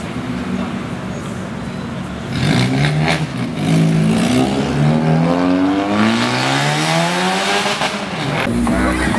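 A Volkswagen Gol GT revs past on a street at a car meet, engine note climbing and falling through several loud sweeping pulls as it approaches and moves off, over steady traffic noise with voices nearby.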